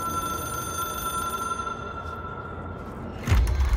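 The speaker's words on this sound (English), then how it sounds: "It is a phone." A video game telephone, the Hotline in Control, rings steadily with bright sustained bell tones over a dense hum, ending in a sudden louder thump-like burst.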